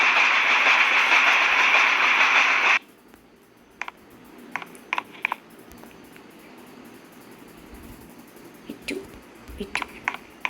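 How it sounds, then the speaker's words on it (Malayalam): An express train on railway tracks roars past loudly for nearly three seconds, then cuts off abruptly, leaving a quiet scene with scattered faint clicks and knocks. "എക്സ്പ്രസ് ആയിരുന്നു."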